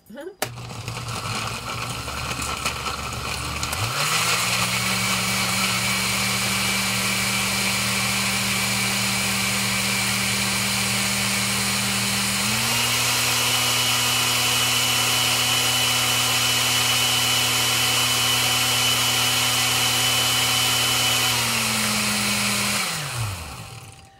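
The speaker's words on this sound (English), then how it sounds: "I'm just doing it like this because they're hard, so I don't want to put them all in and break my blender." A cheap Walmart blender grinds hard raw beets and rosehip, its motor roaring loud and steady close by, stepping up to a higher whine midway before spinning down at the end.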